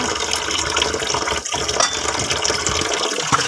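Water running and splashing as tube-feeding equipment for a patient is rinsed inside and out, a steady close gushing stream with brief breaks.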